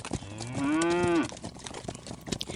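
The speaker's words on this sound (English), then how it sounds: "The cattle were already quite near. Their bawling was growing louder." A herd of cattle bawling nearby, one long, loud drawn-out moo rising and falling, followed by quieter rustling and shuffling.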